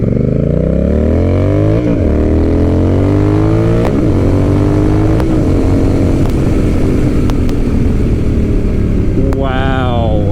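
A Honda Rebel 1100 motorcycle fitted with a TBR exhaust revs loudly and up close, climbing and falling through several sharp throttle blips over a deep rumbling idle.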